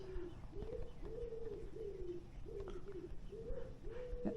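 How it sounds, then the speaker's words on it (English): Repeated soft cooing bird calls from a nest with chicks being fed, a steady series of about eight similar calls over low background noise. "you won't be able to see, but I can hear the chicks."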